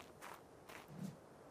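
Heavy Carnotaurus footsteps in the Ark video game on the Fjordur map, a few soft thuds spaced through a short stretch, fairly faint and somewhat distant.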